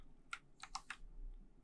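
A few keys pressed on a computer keyboard: a single click, then a quick cluster of three or four crisp taps close by in a quiet room.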